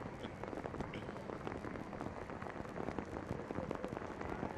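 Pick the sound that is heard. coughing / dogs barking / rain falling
rain falling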